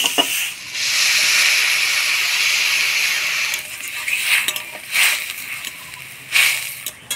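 A little broth hits a pan of jute greens fried with turmeric, setting off a loud sustained hiss of steam that fades, then breaks into a few short sizzling bursts.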